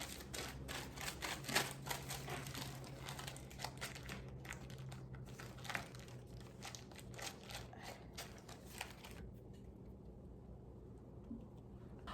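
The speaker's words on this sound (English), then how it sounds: "I'm going to pull off the wax paper" Wax paper peeled off a rolled pie crust for a blackberry tart, soft crinkling and papery rustles in a faint, close, continuous stretch that fades to near quiet at the end.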